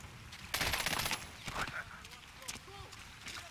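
Gunfire in Medal of Honor: Warfighter, a rapid burst of close automatic shots followed by scattered single cracks and clatter, with background game noise and a voice speaking in between.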